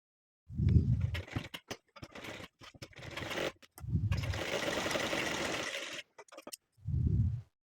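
A sewing machine stitching the shoulder seam of a ladies' shirt, running in several bursts of whirring stitching separated by short pauses and clicks, close and clear, no voices.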